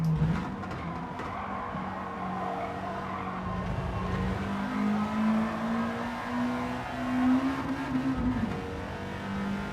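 A race car spins out in Gran Turismo 7, its tires squealing in a long rising skid tone over a steady engine drone, fairly close and without talk.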